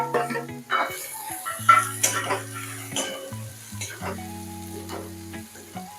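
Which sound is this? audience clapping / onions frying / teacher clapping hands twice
onions frying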